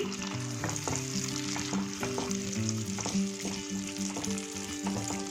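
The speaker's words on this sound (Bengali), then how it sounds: "মশলাটা একটু কষিয়ে নেব।" Blended masala paste thinned with water fries in a pan for prawn kofta curry, a close steady sizzle with repeated scraping stirs and clinks of the spoon against the pan, no voices.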